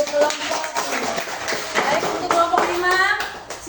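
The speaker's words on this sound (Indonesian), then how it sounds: "tepuk tangan dulu untuk kelompok 5" Schoolchildren in a classroom applauding a student group, a busy patter of many small hands clapping at moderate loudness, mixed with children's voices.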